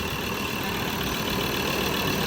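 A Ford Everest with a freshly replaced 3.2-litre engine idles nearby, a steady, even diesel-like hum with no talking over it.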